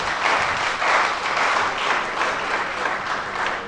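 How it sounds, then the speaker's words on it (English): Enthusiastic audience applause at HerbFEST 2020, a healing-plants festival in Imo State: a dense, steady wash of many hands clapping, loud and sustained for several seconds with gentle swells, no speech. "a better round of applause for him"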